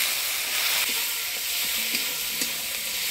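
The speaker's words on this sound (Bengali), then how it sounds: "সব মশলা দিয়ে নাড়িয়ে নিচ্ছি" Ground ginger, garlic, coriander-cumin and chili pastes with turmeric and salt fry in hot oil, a bright steady sizzle broken by a few light clinks and scrapes of a stirring spoon.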